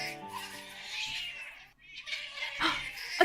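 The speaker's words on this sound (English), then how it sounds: "I hear the cry of cats' voices outside." Cats crying outdoors at night in mating season, a drawn-out wailing yowl that fades midway, then a second rising cry, fairly close and clear with no talk over it.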